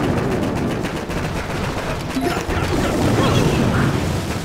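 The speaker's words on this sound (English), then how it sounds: "only the boom cannon is shooting" Rapid bursts of cannon fire from a boom cannon during a base attack in the Boom Beach mobile strategy game, a dense, continuous stream of shots and impacts at steady loudness with no voices.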